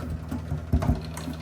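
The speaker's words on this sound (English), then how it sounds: "You hear this noise? It's coming from the pump," An LG washing machine's drain pump runs with a steady mechanical hum and a rhythmic whirring buzz, with a few louder knocks partway through, heard close up with no one talking.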